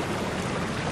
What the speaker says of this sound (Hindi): यहाँ से आता है ये पानी मोड़ा हुआ उस तरफ पंचक्की की तरफ